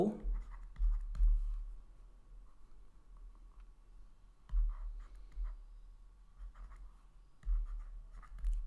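A pen scratches across paper in close, irregular bursts of strokes while a maths solution is written out, with a voice speaking at times.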